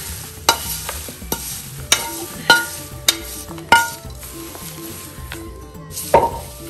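A spoon stirs and scrapes a spicy Maharashtrian chiwda mixture in a pan, with sharp regular knocks about every half second over a soft sizzle, close and clear with no talk.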